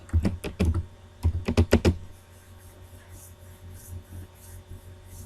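A city name is typed on a computer keyboard in two quick bursts of close, crisp key clicks, then quiet room tone with a few faint taps.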